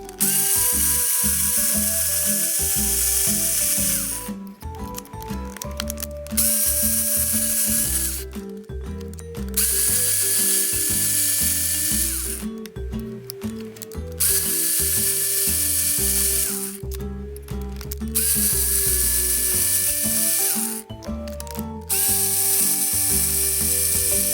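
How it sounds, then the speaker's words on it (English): Small screws are taken out of an RC car's transmission housing with a power tool, making repeated whirring, ratcheting bursts of several seconds each, separated by short pauses, loud and close. "You can remove the transmission housing by removing 5 screws."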